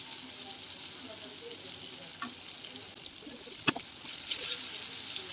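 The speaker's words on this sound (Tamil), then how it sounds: "அந்த சலசல அந்த தண்ணி சத்தம் அடங்கணும்" Food deep frying in hot oil for a non-veg New Year lunch, a steady broadband sizzle and crackle that runs the whole time, with a few brief clinks and stirring sounds standing out.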